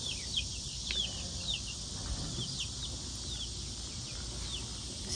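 Young chickens hatched in early June cluck and chirp in short, high calls scattered over a steady background hum, fairly close, with no talking.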